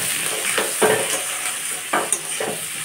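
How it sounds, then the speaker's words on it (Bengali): Onion frying in a pan for a home-cooked dish, a continuous sizzle broken by several scraping stirs of a utensil against the pan. "পেঁয়াজটা আমার ভাজা হয়ে গেছে।"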